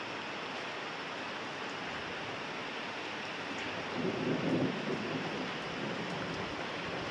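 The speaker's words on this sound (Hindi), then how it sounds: "कैसी तेज हवाएं चल रही हैं" Strong, cold winter wind blows outdoors after rain has chilled the weather, a steady, loud broadband roar that swells into a stronger gust midway before settling back to a constant rush.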